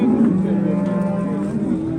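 Cattle at a livestock market where fattened bulls are sold, one animal letting out a long, loud, low moo close by that holds steady for the full stretch over faint market murmur.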